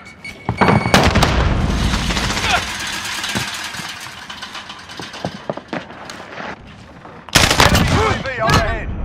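Grenade explosion in a multiplayer video game, a loud booming blast amid gunfire and engine rumble, followed by a second heavy burst near the end, with voices shouting over the din.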